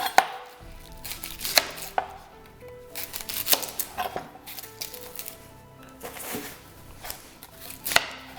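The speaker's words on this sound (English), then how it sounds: "The red onion you want to cut pretty fine." A knife chops red onion finely on a board in a quick, irregular run of crisp, close strikes, with short pauses between bursts and no voices.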